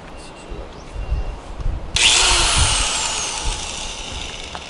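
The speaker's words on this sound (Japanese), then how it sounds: "何で取る、 グラインダーですか。" An angle grinder removes unwanted parts from a converted shipping container house. After a quiet stretch with faint voices, a loud, harsh grinding whine starts suddenly and holds steady to the end.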